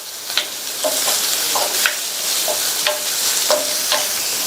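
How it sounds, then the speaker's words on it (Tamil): Beetroot pieces stir-fry for a Tamil poriyal on a high flame, with a constant loud sizzle broken by repeated scraping strokes of a spatula through the pan. "இந்த பீட்ரூட்டை ஹை ஃப்ளேம்லேயே வச்சு ஒரு 2 நிமிஷத்துக்கு வதக்கிக்கோங்க."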